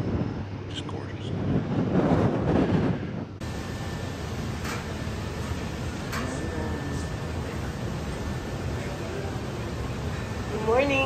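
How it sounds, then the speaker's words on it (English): Steady wind buffets the microphone on the open top deck of a cruise ship, the Celebrity Millennium, near Icy Strait Point, a continuous broadband rush with a louder gust early on and a person talking briefly at the start. "A little bit of wind."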